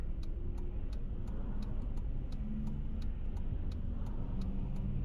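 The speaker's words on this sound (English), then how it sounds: "there's a lot of traffic in this area" Continuous road traffic rumbles at a moderate distance, a steady low drone of passing vehicles with a regular light ticking running over it and no speech.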